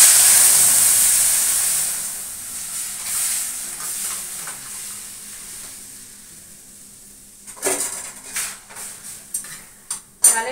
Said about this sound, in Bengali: এবার ডালটা ফোড়ন দিয়ে দিচ্ছি।